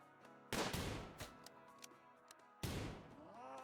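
Gunfire in the colony-sim game RimWorld, two loud sharp shots about two seconds apart, each followed by a ringing decay, with smaller ticking impacts scattered between them.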